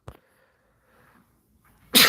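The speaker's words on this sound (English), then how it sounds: "Oh, I gotta sneeze." A quiet breath and soft murmuring build up before a single loud, sharp sneeze bursts out close by at the very end.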